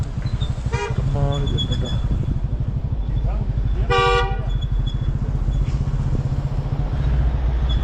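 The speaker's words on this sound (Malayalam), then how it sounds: "ഇത് ഇവിടുത്തെ ബസ് സ്റ്റാൻഡാണ്." Vehicles honk at a busy bus and taxi stand in Leh, with several short horn toots over a steady idling engine rumble, while people talk nearby.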